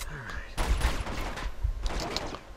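Grenade blast and gunfire in the video game Uncharted 2: a burst of booming explosion and rapid shots, loud and close, with a second flurry of gunfire shortly after, under a man's speech.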